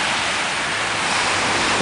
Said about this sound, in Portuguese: Praia da Ponta Verde, onde a Cleidiane vai conhecer o mar